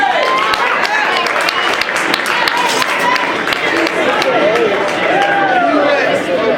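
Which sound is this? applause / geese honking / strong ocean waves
applause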